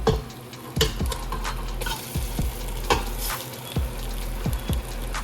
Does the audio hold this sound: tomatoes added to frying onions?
yes